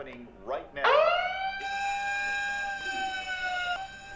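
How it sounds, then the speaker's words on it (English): An alarm from a science-fiction film blares as a steady, loud, high electronic tone that settles into a sustained pitch, following a few rising swells, with a reacting voice briefly audible at the start. "Is that a freaking alarm?"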